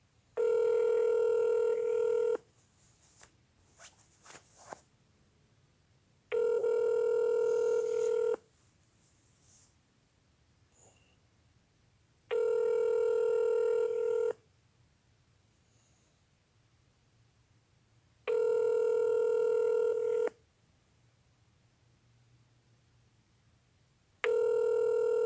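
Telephone line tone after a hang-up on an automated government menu call, repeating as steady beeps roughly every six seconds, each lasting about two seconds, with quiet gaps between.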